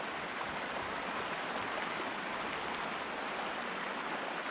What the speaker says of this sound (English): There's a little water rushing sound there, right here by this river.